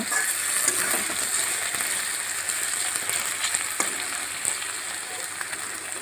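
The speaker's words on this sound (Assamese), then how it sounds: "আলুটো এনেকৈ কিছু সময় ভাজি থাকিব।" Continuous crackling sizzle of potatoes frying in a pan, fairly steady and close, with faint occasional clicks and no talking.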